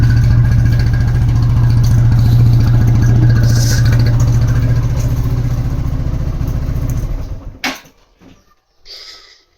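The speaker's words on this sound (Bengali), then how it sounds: "ইঞ্জিন অয়েল চেঞ্জ করার পর কীরকম শব্দ আসছে" A motorcycle engine idles with a fresh oil change, a close, even drone for about seven seconds before it shuts off. A few sharp clicks and a brief rustle follow in the quiet.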